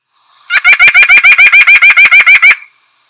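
A close, loud run of about fourteen quick nasal honks from a white-breasted nuthatch, evenly spaced and lasting around two seconds, rising out of silence and stopping abruptly.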